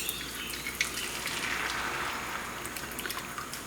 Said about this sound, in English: pour in the equivalent of a probably 6 egg omelet for 2 people